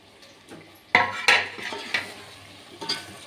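Five scored boiled eggs go into a pot of egg biryani masala and are stirred in: a few sharp metal clanks and scrapes of a spoon against the pot, close and fairly loud, with no talking.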